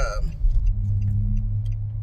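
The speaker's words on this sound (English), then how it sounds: "there's a lot of traffic right here" Road traffic on a busy street on the way to a car wash, a close rumbling car engine with steady low drone and faint clinks, heard from inside a vehicle.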